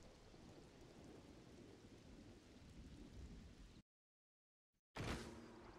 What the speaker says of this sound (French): Moi je me sens apaisé en voyant la pluie dans le jeu